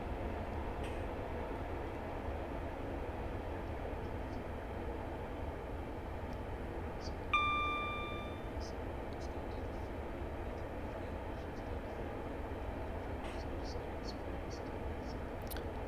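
A Class 142 Pacer diesel unit runs in a train simulator game on the Fife Circle Line, a steady low rumbling drone of engine and wheels throughout, with a brief tonal chime or warning sound partway through.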